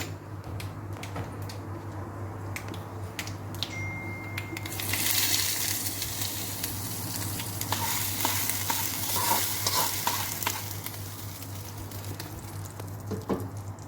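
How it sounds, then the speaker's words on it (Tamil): Tempering of mustard seeds and urad dal for coconut chutney sizzles steadily in hot oil, with light popping and a stronger frying hiss swelling midway, under a constant low hum. "கடுகு, உளுந்து நல்லா பொரிஞ்சிருச்சு. இப்போ நம்ம வந்து அதை சட்னியில் போட்டுடலாம்."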